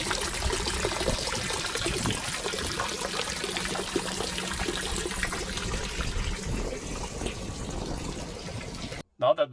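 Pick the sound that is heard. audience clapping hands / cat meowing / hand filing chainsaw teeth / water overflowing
water overflowing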